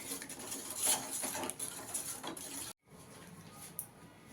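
A utensil whisks beaten egg with salt and chopped onion in a bowl for egg paratha, giving soft rapid clicks and scrapes that are close but quiet, then a brief silence and a few fainter taps.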